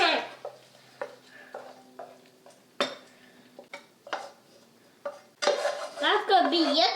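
Macaroni and cheese mixed with Cheeto powder gets stirred in a pot, with scattered scrapes and clinks of utensil against cookware, then a voice over the last couple of seconds.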